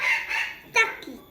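A sick chicken with coryza that has stopped eating and drinking gives a few short, faint clucks and calls in close succession, with a person speaking nearby.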